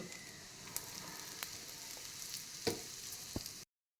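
Mustard seeds and cumin splutter in hot oil with a faint, steady sizzle and a few sharp isolated pops, quiet and close, cutting off abruptly near the end.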